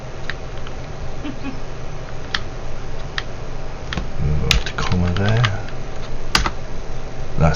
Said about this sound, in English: My typing is getting worse.